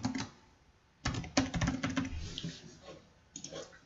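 Keys clatter on a computer keyboard in bursts of quick typing separated by brief pauses, close and crisp, as a business name is entered.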